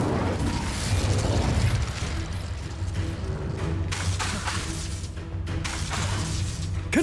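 An Incendio fire spell cast in Hogwarts Legacy, heard as a series of loud, crackling bursts and whooshing blasts over a rumbling, mechanical game soundscape.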